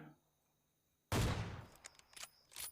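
A burst of gunfire in PUBG Mobile erupts after a quiet moment, a loud rapid volley followed by scattered shots and hit sounds, all at close range.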